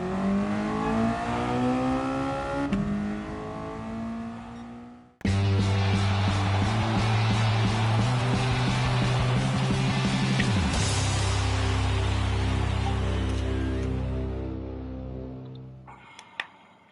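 Race car engines in a racing video game roar loudly and steadily, a sustained high-revving drone that shifts pitch as the cars accelerate, then fades away near the end.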